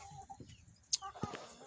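Soft backyard chickens give a few short clucks and murmurs nearby, brief and quiet with small pauses between calls.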